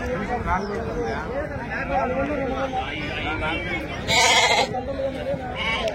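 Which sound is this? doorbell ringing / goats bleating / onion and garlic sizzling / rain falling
goats bleating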